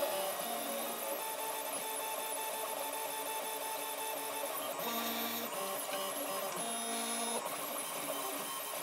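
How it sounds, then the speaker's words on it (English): A 3D printer runs a long print of a Dyson DC16 extension attachment, its stepper motors whining and buzzing in continuous shifting tones with brief rhythmic changes, steady and close with no talking. "one hour seven minutes into this print of this Dyson DC16 extension"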